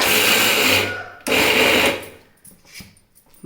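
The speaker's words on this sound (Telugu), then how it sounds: "బరకగా ఇలా గ్రైండ్ చేసేసుకోవాలి." A mixer grinder coarsely grinds soaked urad dal without water for spinach vada, giving two loud whirring bursts of motor noise separated by a brief pause, then quieter clattering as it stops.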